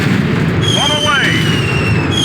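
In a video game, a bomb falls on artillery with a loud rumbling blast, and a descending whistle and rising tonal sweeps pass over a constant heavy roar of game noise.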